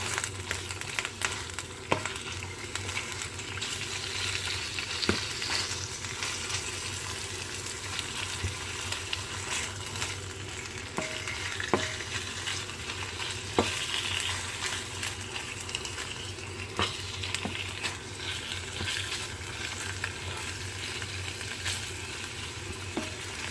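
Pork stir-fries with red curry paste for a jungle curry, a steady loud sizzle running throughout with scattered spatula clicks and scraping stirs against the pan, and no voices.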